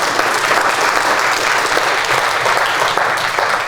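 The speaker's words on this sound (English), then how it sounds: "big round of applause for Abigail and the Center for Entrepreneurship" Steady applause from an audience at a university cleantech challenge finals event, a full dense clapping that holds at an even level throughout.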